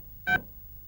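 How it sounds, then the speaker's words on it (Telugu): A single short telephone keypad tone sounds as a number is dialed, a brief clear beep lasting about a tenth of a second against a quiet background. "ఈసారి నెంబర్ కరెక్ట్ కొట్టాలి."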